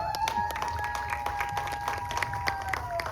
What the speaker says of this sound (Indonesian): Mari tepuk tangan untuk dua orang yang telah mewujudkan konser spektakuler Januari lalu